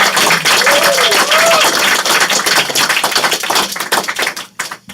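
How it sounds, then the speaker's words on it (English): A live audience in Portland gives a big round of applause for drummer Janet Weiss, dense steady clapping that fills the room loudly and then thins out and fades near the end. "give a big round of applause for Janet Weiss"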